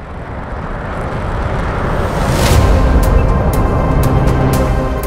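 An Su-22 Fitter jet in the video game Metalstorm roars past in a steady broadband rush that swells toward the middle, with a few sharp cracks punctuating the loud engine noise.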